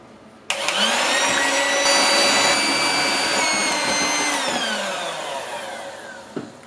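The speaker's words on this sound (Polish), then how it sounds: "Tak 10 minut trzeba ubijać na najwyższych obrotach" An electric hand mixer beats eggs at top speed, a loud, steady close whine that starts abruptly, holds its pitch for several seconds, then slowly winds down and stops.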